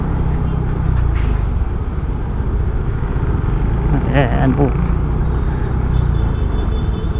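Heavy road traffic in San Fabian, Pangasinan hums steadily and loudly, a constant engine and tire wash with passing vehicles, while someone speaks briefly over it.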